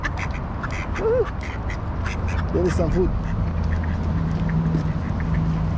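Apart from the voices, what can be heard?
ducks quacking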